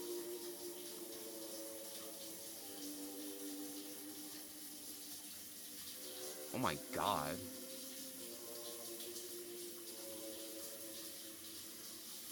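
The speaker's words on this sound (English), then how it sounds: "You step into the guest bathroom and into the shower." A guest bathroom shower in the Scarlet Hollow game runs as a soft, steady hiss of water, faint and constant throughout, with a short spoken exclamation breaking in briefly near the middle.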